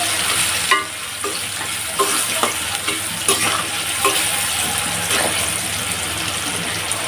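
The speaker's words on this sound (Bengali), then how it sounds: "এখন আমি আলুটা হালকা ভেজে নেব" Potato pieces frying with turmeric and salt in a pan, a steady close sizzle with occasional stirring scrapes and clinks, no voices.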